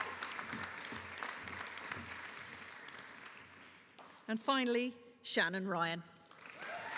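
Graduation ceremony audience applauding graduates, a sustained spread of clapping filling the hall for several seconds before a voice over loudspeakers announces a name, the clapping continuing faintly beneath.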